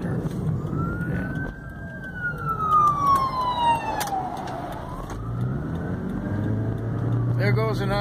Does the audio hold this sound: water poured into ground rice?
no